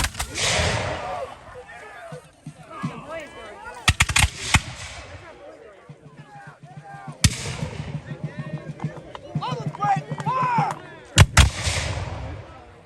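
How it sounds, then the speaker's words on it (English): Muskets fire at a Revolutionary War reenactment in damp weather, with several loud sharp reports spread out over time, some near and some farther off, while a person talks throughout. "You'll see some of the troops have problems with their muskets not firing."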